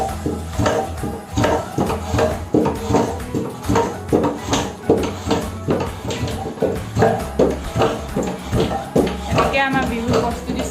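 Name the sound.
rice being pounded with a dheki, a wooden foot-operated pounder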